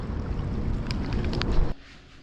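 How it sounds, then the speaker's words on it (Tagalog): Heavy wind roars and buffets the microphone in a loud, steady rush, then drops off abruptly near the end. "Tapos malakas po yung hangin."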